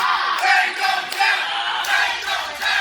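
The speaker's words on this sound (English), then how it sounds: "Crowd chanting, Payne don't tap" Wrestling event crowd chanting in rhythmic bursts, loud massed voices rising and falling in repeated phrases across an arena.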